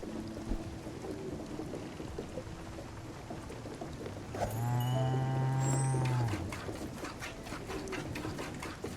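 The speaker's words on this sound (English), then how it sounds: "Oh, the sound effects, though. Oh, what a good cow." A cow moos from a video game, one drawn-out harmonic low at mid-clip, surrounded by bird-like chirps and game background sounds; no one speaks.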